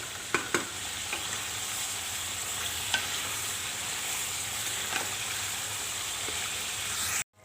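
Chicken karahi sizzling steadily in a pan with salt, green chilies and garlic paste, a continuous close frying hiss with a few stirring knocks, no talking.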